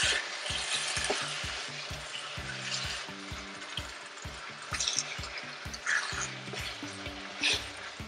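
Beef tripe sizzling steadily in a pan over medium heat, with occasional scraping and shuffling as the pieces are turned, all close and continuous.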